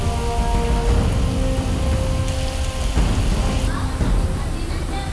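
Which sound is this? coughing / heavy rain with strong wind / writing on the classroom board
heavy rain with strong wind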